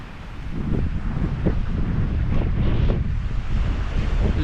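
Strong wind buffets the microphone in a steady, rough roar throughout, with gusty surges and no voices, at a campsite during a storm.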